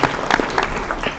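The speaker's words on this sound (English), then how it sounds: "So let's give them a round of applause for that." A short burst of clapping from a crowd at a school board meeting, several hands patting irregularly for about a second.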